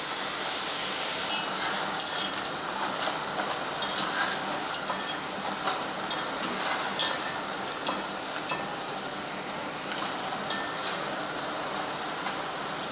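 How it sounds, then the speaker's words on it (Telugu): Wheat flour snack dough fries in hot oil on a medium-low flame, a steady soft sizzle with light scattered crackles and occasional utensil clicks throughout. "నూనె కాగినాక మీడియం టు లో ఫ్లేమ్ అడ్జస్ట్ చేసుకుంటూ మనం వీటిని ఫ్రై చేసుకోవాలి"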